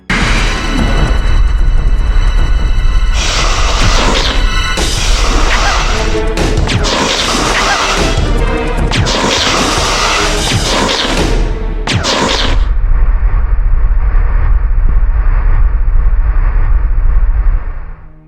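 Heavy bazooka blasts and crashing impacts boom repeatedly during a giant snake boss fight in Resident Evil 1, loud bursts with rushing whooshes, followed by a steadier roaring stretch of game noise.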